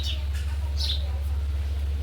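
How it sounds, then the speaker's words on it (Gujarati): Sparrows chirping outdoors on a sunny morning among dry trees, a few short high chirps at moderate distance over a steady low hum. "અહીંયા મસ્ત મજાના ચકલા પણ બોલે છે"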